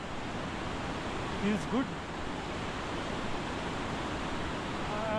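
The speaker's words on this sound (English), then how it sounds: "And this is the mighty river. What a roaring sound." A roaring mountain river flows below a suspension bridge on the Everest Base Camp trek, a constant dense rush of water filling the scene while someone briefly speaks over it.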